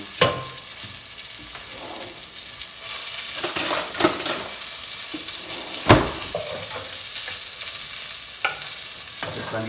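Sausages cooking with chipotle in a pan, a continuous sizzle broken by sharp clanks and scrapes of a utensil stirring, close and moderately loud.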